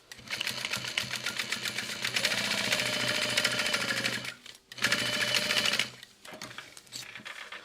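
A sewing machine top-stitches a pocket on a messenger bag, humming in a loud, steady motor-driven run with two brief pauses before it resumes.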